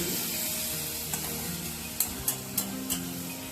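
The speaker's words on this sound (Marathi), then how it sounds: "थोडं मऊ होईपर्यंत परतवायचं" Capsicum, tomato and onion sizzle in hot oil in a pan as paneer bhurji is made, with a steady frying hiss and a few light clinks of a spoon stirring near the end.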